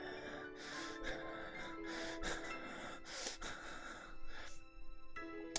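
A voice imitates heavy, rasping breathing from a mummy in a black and gold sarcophagus, in drawn-out gasps and snorts during a Call of Cthulhu tabletop game session.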